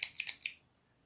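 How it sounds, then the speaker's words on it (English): Scissors snip excess crochet thread from a small square: four quick, crisp cuts close together, then silence. "then you cut the excess thread off"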